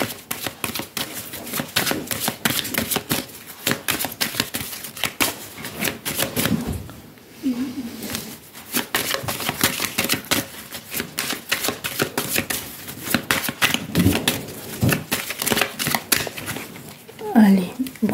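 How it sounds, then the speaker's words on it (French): A deck of tarot-style playing cards is shuffled close up, with rapid rattling flutters of cards in bursts and a voice talking over them. "je vais mélanger le jeu"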